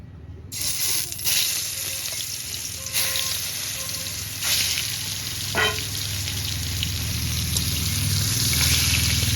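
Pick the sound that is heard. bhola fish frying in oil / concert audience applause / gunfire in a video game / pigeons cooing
bhola fish frying in oil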